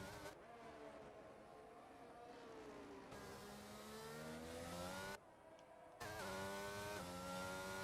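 A race car engine in a racing video game, Abu Dhabi circuit, whining loudly through rising and falling revs with gear shifts, a brief drop then a sharp climb again, heard alone without talk.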